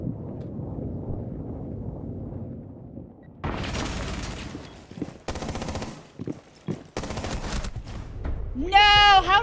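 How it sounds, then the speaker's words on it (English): Gunfire in Rainbow Six Siege, including a wall bang shot, comes as loud bursts of rapid shots with brief gaps between them, followed by a rising electronic game tone at the end. "How lucky is he with the wall bang?"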